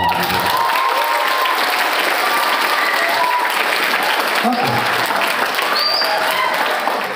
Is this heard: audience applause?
yes